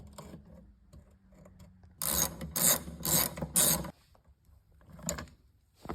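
Scraping and ratcheting clicks while an e-brake assembly is fitted into a Honda Element center console, a burst of four loud rasping strokes in the middle, with quieter mechanical handling before and after.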